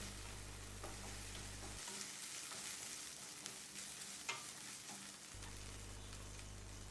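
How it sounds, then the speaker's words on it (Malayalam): Chicken pieces sautéing in a tablespoon of oil in a pan give a soft, fairly faint sizzle and crackle with occasional light stirring, and no voices. "ഓയിൽ ഒഴിച്ചിട്ട് ആ ചിക്കൻ ആ ഓയിൽ കിടന്നിട്ട് നല്ലതുപോലെ ഒന്ന് സോട്ട് ചെയ്തെടുക്കണം"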